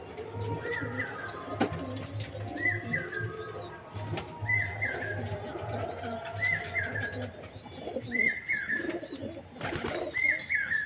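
Pet pigeons cooing close by in a loft, repeated soft rolling coos overlapping one another throughout, with some rustling and faint background noise.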